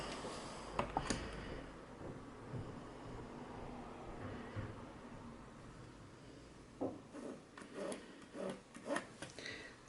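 A marker or pen drawing a short marked line on bag fabric for a craft bucket bag, with faint rubbing scratches and a few soft taps, quiet and close.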